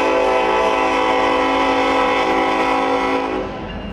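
A train passes a road crossing and sounds its horn in one loud, sustained, steady chord that holds for several seconds over the rumble of the moving rail cars, then starts to fade near the end.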